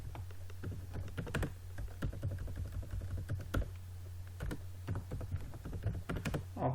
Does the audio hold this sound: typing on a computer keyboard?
yes